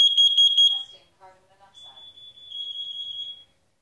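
A Nest Protect alarm sounds during its carbon monoxide test: a loud, piercing chirping tone, then a synthetic voice speaking, then a long steady high beep.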